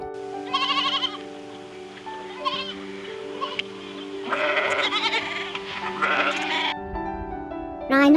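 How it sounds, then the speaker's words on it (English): A goat bleats in several wavering, nasal cries with short gaps between them, loud and close, over a faint background tone. "Goat."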